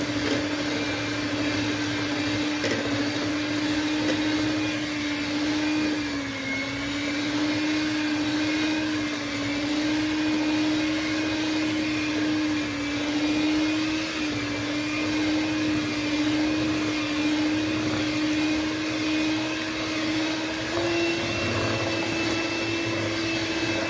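An electric mixer beating date cake batter with egg and vegetable oil, a continuous steady motor whine that stays close and loud throughout, with no voices over it.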